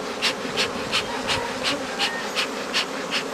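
Honey bees buzzing steadily around hives during a hive-splitting beekeeping class, a close, continuous drone swelling in regular pulses as insects pass near.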